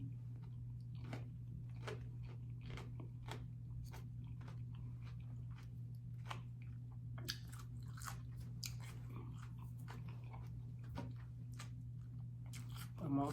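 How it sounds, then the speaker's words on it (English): Crunchy salad with croutons and bell peppers is bitten and chewed close to the mic, a steady series of quiet, crisp crunches over a constant low hum. "And the croutons give it a crunch"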